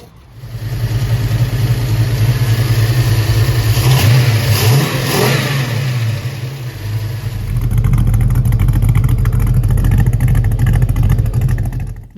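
A 1983 Holden Commodore engine fitted with a Holley Sniper fuel injection system revs loudly and close up, with a sustained throaty roar that dips briefly in the middle and then builds again before cutting back.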